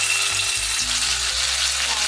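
Garlic paste fries in two tablespoons of hot white oil, a dense, loud, even sizzle that fills the whole moment without a break.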